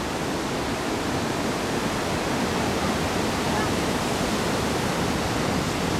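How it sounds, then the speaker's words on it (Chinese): The wide Doupotang waterfall in Guizhou, swollen after heavy rain, gives a loud, steady broadband roar that stays even throughout, heard from a distance. "现在这里是陡坡塘的瀑布，"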